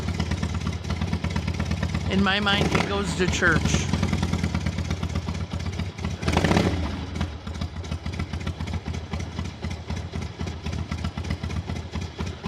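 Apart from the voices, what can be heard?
neighbor's motorcycle starting and idling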